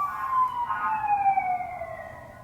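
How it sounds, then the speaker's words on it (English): An emergency vehicle siren wails outside as it passes, one clear descending tone that gradually fades, heard alone without talk. "sorry about the sirens"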